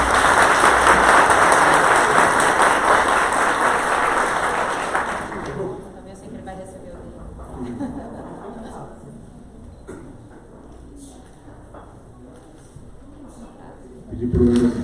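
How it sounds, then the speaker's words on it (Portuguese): Applause at a lecture with a state deputy and a doctor marks a certificate presentation. A dense burst of clapping fills the first five seconds, then fades to a murmur and scattered sounds before a brief swell at the end. "Salva de palmas, por favor."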